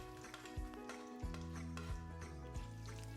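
Curry leaves, dried chillies and peanuts frying in oil make a soft continuous sizzle with a few stirring taps, set against a sustained background tonal drone.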